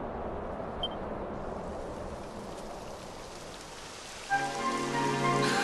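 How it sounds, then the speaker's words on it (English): Steady rain falls in the Dragon Quest XI video game, a soft even hiss that holds for several seconds. A brighter layer of rain and chimes then swells in near the end. "It would have to go and start raining, wouldn't it?"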